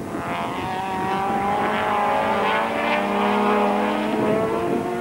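Touring race cars from the 1994 Stannic SA Touring Cars final at East London roar past on the circuit, engines droning loudly in close formation with pitch sweeping as they pass.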